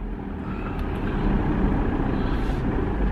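A car driving down a town road through Syston, a steady close rumble of engine and tyre noise with a faint higher whine passing over it, no talking.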